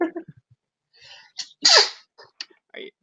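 One loud sneeze erupts amid scattered soft breaths and murmured sounds, followed by faint rustling.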